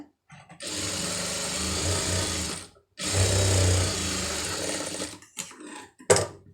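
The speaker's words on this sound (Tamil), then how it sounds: "இப்போ இந்த பிட்டை வந்து கரெக்டாக இதில் வந்து ஒரு தையல் போட்டுருங்க" A sewing machine stitches a fabric piece during a beginners' tailoring class, running in two steady bursts of about two seconds each, with brief pauses and short clicks and handling sounds between them.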